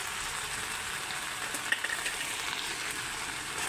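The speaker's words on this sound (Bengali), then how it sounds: "মশলাটা আমি ভালোভাবে কষায় নিচ্ছি" Ground coriander and chili spices frying in a pan for a chicken and cabbage curry with new potatoes, an even, close crackling sizzle with faint scraping of stirring, unbroken for a few seconds and free of speech.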